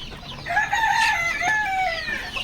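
A desi village-breed rooster on a poultry farm crows once, a long rising-and-falling cock-a-doodle-doo, loud and close, with no talking around it.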